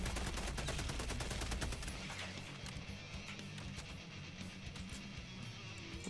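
Rapid gunfire in the video game Helldivers 2, a dense loud burst of automatic shots for about two seconds, followed by a lighter scatter of distant pops over a noisy battle wash.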